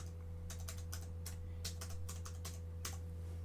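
A password is typed on a computer keyboard: an irregular run of crisp, close keystroke clicks over a steady low electrical hum.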